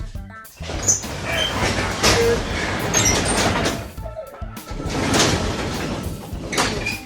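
A large garage door rattles and rolls open with clanking and sliding noises, uneven bursts of mechanical rumble nearby.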